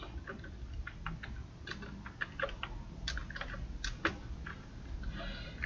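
Quick, close, uneven clicking comes from someone typing a short word on a computer keyboard. The keystrokes fall in small bursts over a faint room hum, with no voices.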